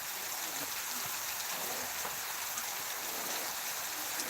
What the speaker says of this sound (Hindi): ये बारिश का नज़ारा